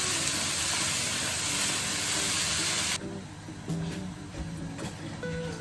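Bacon cooking in a pan for a crustless low-carb quiche makes a loud, close, steady hissing sizzle that drops suddenly partway through, leaving softer crackle and a few light clinks.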